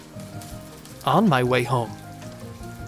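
Heavy rain falls as a continuous hiss and patter on surfaces, a steady backdrop under a speaking voice that rises briefly in the middle.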